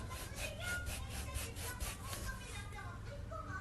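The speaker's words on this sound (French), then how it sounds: "Là, je vais juste passer un petit coup de lime." A foot file rubbed over the skin of a foot in a pedicure demonstration, giving a quick series of rhythmic scraping strokes, close and fairly quiet, with a voice over part of it.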